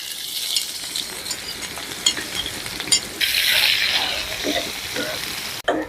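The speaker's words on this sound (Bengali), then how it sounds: "তেলটা গরম হয়ে গেছে এখন আমি পেঁয়াজ রসুন দিলাম সম্বাসের লাগে।" Onion and garlic hitting hot oil with naga and green chilies for a dal tempering, producing a bright, steady sizzle with crackling spikes and a sudden louder hiss midway, close to the pan.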